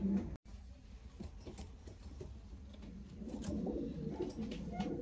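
Fancy show pigeons coo softly at close range, low murmuring calls over a faint rustling background, fairly quiet and continuous, with no talking.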